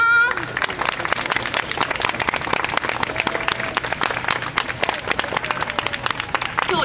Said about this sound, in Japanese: 皆さんもう一度盛大な拍手をお願いいたします。